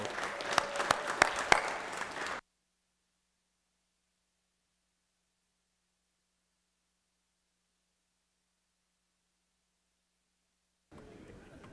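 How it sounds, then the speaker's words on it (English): Legislators and guests in a state legislative chamber applaud a former senator, a dense burst of clapping lasting a couple of seconds before cutting to silence, with faint room sound returning at the end. "Let's give Ellis a round of applause"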